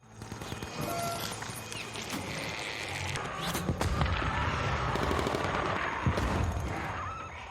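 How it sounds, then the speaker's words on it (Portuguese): Dense, chaotic bursts of gunfire with sharp cracks rolling through a loud, busy scene inside a temporary command center during a zombie outbreak, sustained throughout with no talk. "tiros começam a ser disparados dentro do centro de comando temporário"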